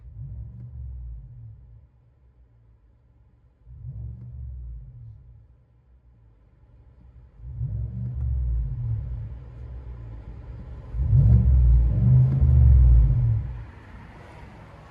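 Borla ATAK exhaust on a GMC Sierra Denali 6.2L V8, heard from inside the cab, a deep throaty rumble rising and falling over several revs, the last pulls louder.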